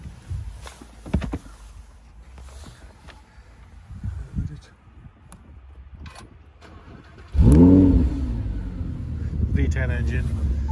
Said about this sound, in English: V10 engine, straight from Lamborghini, sounds incredible.